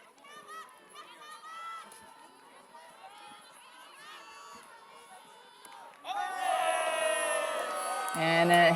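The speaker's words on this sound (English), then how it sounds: "a hand block is rewarded with some cheering from the sideline" Sideline spectators at an elite ultimate frisbee match in Leuven, box vienna ultimate versus Jinx, erupt into loud cheering and whoops after a stretch of commentary-style talk, the crowd noise swelling and holding to the end.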